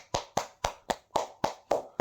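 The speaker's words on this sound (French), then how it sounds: "Oui, vous pouvez applaudir." Eight sharp hand claps in a slow, steady rhythm, close and fairly quiet, with nothing else in between.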